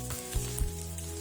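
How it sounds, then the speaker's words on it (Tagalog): Fried rice with oyster sauce sizzling quietly in a pan while being stirred, a low hiss broken by a few soft thumps and scrapes, no voices. "At i-continue lang natin sa pagluluto habang hinahalo natin for another few minutes."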